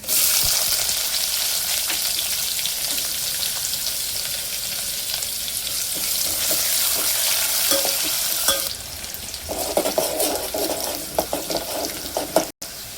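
Curry leaves, ajwain and onion hit hot oil for a Vidarbha-style green moong dal, a loud continuous sizzle with stirring scrapes that eases into quieter crackling and a few clinks near the end.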